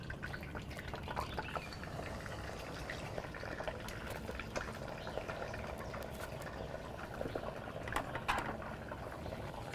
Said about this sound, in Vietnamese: khi ta chiên là ta phải dùng cái đậy này nhá, nếu không là nó bắn vào mặt đấy.